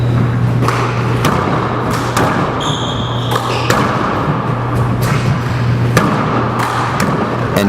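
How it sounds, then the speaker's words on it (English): A four-wall handball match at the NYAC Invitational: repeated sharp thuds of the ball striking the court walls and floor, spaced irregularly over a steady hall hum with faint crowd noise. "He hits a medium pace serve, crushes a right fist down the left wall, and follows it up with a soft dump kill down the right wall."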